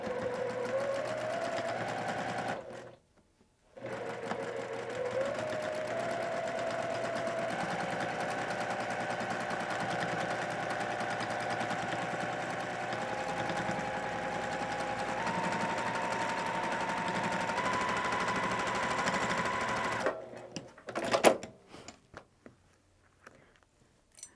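Sewing machine running steadily for about twenty seconds while piecing a quilt, a continuous motor whine whose pitch steps up in stages, with one brief pause near the start and clattering handling sounds at the end.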